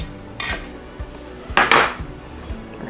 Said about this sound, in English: I'm going to use my knife and just make sure it's nice and loosened